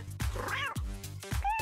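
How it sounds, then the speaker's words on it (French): A small kitten meows three times in quick succession, close and clear, each cry rising then falling, the last one thinner and higher. "Maman, regarde, un chaton."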